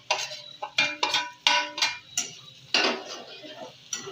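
Sautéed bitter gourd tipped from a bowl into a pan with egg, a burst of separate close metallic clinks and scrapes of spoon on cookware in an irregular rhythm, no voices.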